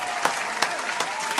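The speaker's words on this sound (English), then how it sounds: "Round of applause." Audience applause at a talk, a brief burst of dense clapping with a few sharper claps standing out, steady and fairly close throughout.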